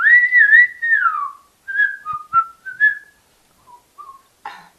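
A person whistles a melodic tune, a long sliding opening phrase followed by short chirped notes and a pause, clear and close with no talking.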